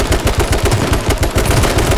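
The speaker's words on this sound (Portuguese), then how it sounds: "você não tá escutando o tiro?" Rapid automatic gunfire from the H1Z1 battle royale game, dense bursts of shots repeating loudly and continuously with no talking over them.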